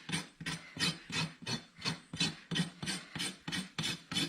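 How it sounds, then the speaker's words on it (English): The edge of a farrier's rasp scrapes across a horse's hoof in a quick, even rhythm of about ten rough strokes, each a short gritty rasp, close and fairly soft. "we're going to take the edge of our rasp and we're going to rough up the hoof ball."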